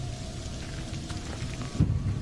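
Rain patters steadily onto a puddle in a video game, a dense soft hiss of drops with a low rumbling swell near the end and no talking.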